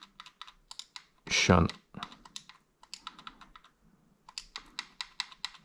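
Typing on a computer keyboard, quick bursts of close clicking keystrokes with short pauses between them, and a brief spoken word partway through.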